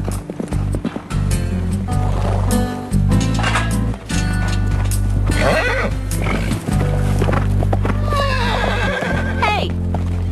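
Horse neighing and whinnying among clip-clopping hooves on a rural cattle station, with several whinnies over steady hoof beats and background music throughout.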